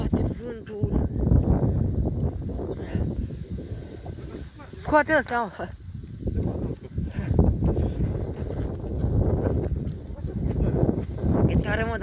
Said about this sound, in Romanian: Mamă, ce bate vântul.